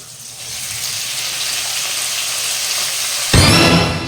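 Fish pieces hiss and sizzle in hot oil, a steady bright frying crackle that swells abruptly near the end as more food is dropped into the pan, loud and close with no talk.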